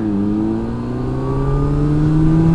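A motorbike pulls away from a standstill, its engine note climbing steadily in pitch, close and loud, with no talking over it.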